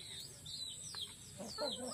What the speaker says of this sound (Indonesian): itu ayam kampungnya mendekat